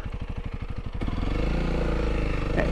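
A 2021 Honda CRF300L motorcycle climbs a hill in sixth gear at half throttle, holding about 50: a low, pulsing engine thump that settles into a steady, buzzing drone, close and fairly loud.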